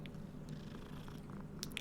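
A cat purrs softly in Hogwarts Legacy, a faint low steady rumble close by, with a couple of small clicks near the end and no talk.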